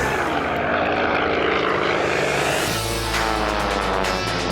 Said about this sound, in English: The Yak 18T's 360 horsepower radial engine can propel the aircraft to speeds of over 180 miles per hour.